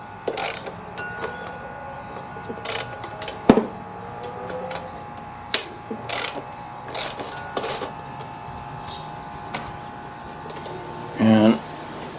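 A ratchet wrench loosening 10mm bolts on a Honda GCV160 lawn mower engine, short bursts of clicking pawl sounds repeated at irregular intervals, close by, with a metallic clank partway through.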